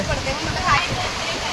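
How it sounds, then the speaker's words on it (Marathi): Heavy rain in Mumbai pours down onto plastic sheeting in a dense, continuous hiss and patter, loud and close, with a person talking over it. "भरपूर पाऊस आहे मित्रांनो"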